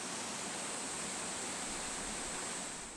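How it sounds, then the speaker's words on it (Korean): Water of a stream flowing through Soswaewon, a traditional Korean garden in summer, a steady, even rushing wash with no breaks, fairly soft and close. "그가 이곳에 정원을 조성한 것도 이 물소리 때문이었다는데"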